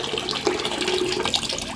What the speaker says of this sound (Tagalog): Ito, bubuhos po natin yung mainit na tubig.